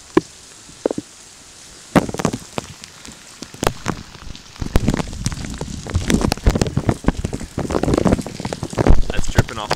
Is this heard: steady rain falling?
yes